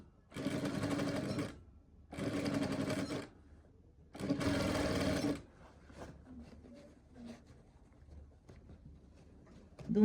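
A sewing machine stitches cargo shorts in three short, steady bursts of a couple of seconds each, close and clear, followed by quiet fabric handling and faint clicks.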